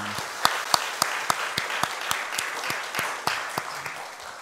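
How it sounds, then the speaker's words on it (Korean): A church congregation applauds during a Sunday morning service, a sustained wash of clapping with a few sharp, rhythmic hand claps standing out near the front. "하나님께 영광의 박수를 올립니다"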